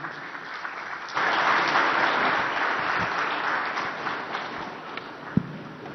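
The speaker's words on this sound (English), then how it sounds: "this deserves a louder round of applause from everyone here" An audience at the opening ceremony of an international irrigation and drainage congress plenary breaks into sustained applause that starts abruptly and holds steady, with one sharp knock near the end.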